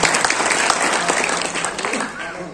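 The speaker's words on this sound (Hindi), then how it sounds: "आपसे चाहूंगा कि जोरदार तालियों से इनका हार्दिक अभिनंदन" At a Samajwadi Party workers' gathering in Kiratpur, the audience claps in a strong, steady round of applause that slowly softens, with voices faintly mixed in.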